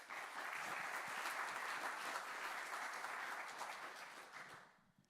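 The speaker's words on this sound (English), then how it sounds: "Let's give them a round of applause." Symposium audience applauds the panelists with a steady, full round of clapping that fades out at the end.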